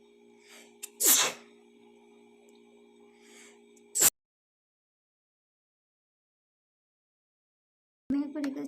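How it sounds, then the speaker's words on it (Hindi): Close indoors, a person gives one loud, sharp sneeze after a faint build-up, followed by a short second burst. A long silence comes next, then a brief noise at the end. "छिक की जो आवाज़ है ना वो भी सुनाना है"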